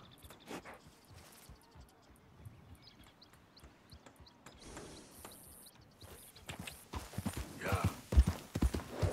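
A horse's hooves pound in Red Dead Redemption 2, starting as sparse thuds and building into a louder, faster gallop toward the end, mixed with game ambience.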